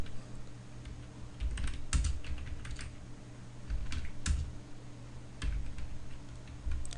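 Typing on a computer keyboard in irregular bursts of crisp key clicks, some runs quick and clustered with short pauses between, close and moderately quiet, no talking.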